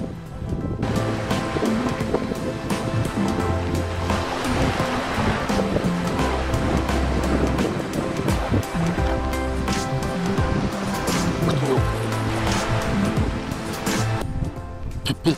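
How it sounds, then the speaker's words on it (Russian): Sea waves with whitecaps roll and break continuously, mixed with wind buffeting the microphone near a fishing boat on open water. "А волны уже с барашками."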